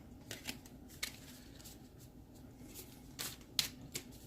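Quiet, intermittent riffling bursts like cards being shuffled, a few short crisp flurries spread across a soft background, with no voices.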